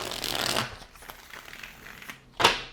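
Playing cards riffle and flutter in a quick shuffle, followed by a softer stretch of rustling and a final sharp snap of cards near the end.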